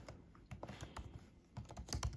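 Quick bursts of typing on a computer keyboard, soft close key clicks in short irregular clusters, fairly faint, with no talking.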